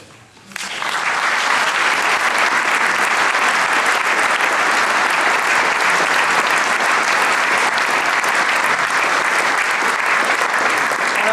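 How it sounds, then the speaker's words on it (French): A concert audience breaks into applause, swelling quickly from a quiet start into a loud, sustained, even wash of many hands clapping that holds for over ten seconds. "Merci pour ces applaudissements pour notre président et son comité"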